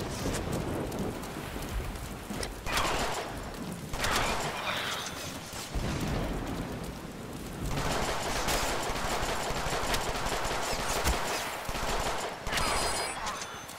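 Gunfire in the Deadpool video game, with rapid bursts and dense crackling volleys running almost continuously over a noisy game soundtrack.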